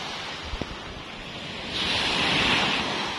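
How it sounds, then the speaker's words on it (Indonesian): Ocean surf breaks on the shore near the mouth of the Glidik river, a broad rushing wash that swells loudly partway through and lingers, with wind across the microphone and a couple of faint knocks early on. "Itu ada yang lagi mainan ombak."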